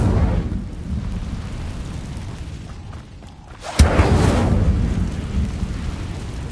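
A fire spell is cast in Hogwarts Legacy: a sudden loud whoosh bursts out midway and leaves a roaring, crackling rush under a steady bed of stormy rain and rumble.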